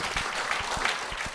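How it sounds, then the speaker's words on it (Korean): Brief applause from an audience at a Buddhist monk's question-and-answer talk, a dense steady patter of clapping lasting just over a second with low thumps underneath. "좀 박수"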